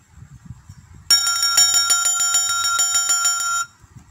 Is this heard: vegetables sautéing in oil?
no